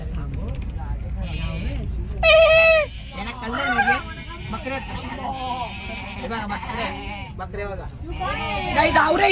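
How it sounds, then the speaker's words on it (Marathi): A group of goats bleats repeatedly, the cries overlapping and close by, while people chatter and talk throughout. "तुम्ही बकऱ्या बघा या बकऱ्या"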